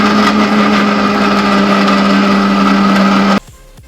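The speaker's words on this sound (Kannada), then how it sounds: "ಸ್ವಲ್ಪ ನೀರು ಹಾಕೊಂಡು ರುಬ್ಕೊಂಬರೋಣ" A kitchen mixer grinder whirs loudly, grinding onion and coriander with a little water. It runs as a steady high-pitched motor drone for over three seconds, then stops abruptly.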